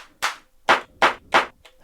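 A LinnDrum clap sample played on an Elektron Analog Rytm drum machine, four sharp dry claps in a steady pattern, plus a fainter fifth at the end, each a crisp snappy burst with a short tail, close and alone.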